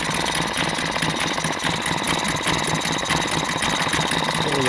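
A Mariner 3.3 hp outboard motor runs steadily with a continuous droning, whining engine tone and some faint squeal, close and unbroken, with no speech.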